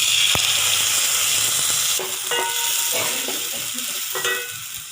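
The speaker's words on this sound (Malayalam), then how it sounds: "അരപ്പ് നന്നായിട്ട് വഴന്നിട്ടുണ്ട്" Ground coconut paste sautéing in a pan for Kerala-style moru curry, with ginger and curry leaves, gives a steady close sizzle and hiss throughout, while a spoon stirs the paste and scrapes the pan now and then.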